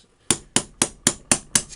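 A hammer taps out a part from a G&G GR15 Raider airsoft rifle's blowback assembly: six sharp, evenly spaced metallic strikes, close and crisp, with no voices.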